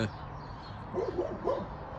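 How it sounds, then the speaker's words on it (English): A few faint, distant dog barks over a steady outdoor background hum, short and spaced apart, from a dog barking at squirrels on a small farm. "over there barking at squirrels."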